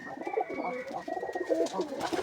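Several pigeons coo in soft, repeated rolling calls close by in a village setting, with overlapping throaty murmurs and no talk.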